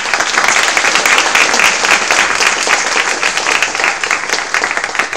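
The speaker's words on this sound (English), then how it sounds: "ask the audience to applaud our panel" An audience at the T4SD Forum applauds a panel with loud, dense clapping close by, a continuous crackling burst of many hands lasting the whole five seconds.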